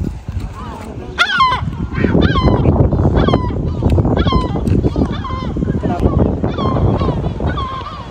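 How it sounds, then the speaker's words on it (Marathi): A large flock of birds near a seaside villa calls loudly at a drone overhead, a dense mix of repeated honking and squawking cries close by, with people talking over the din. "इथे खूप सारे पक्षी आहे आणि ओरडताय जोर जोरात त्या ड्रोनला बघून"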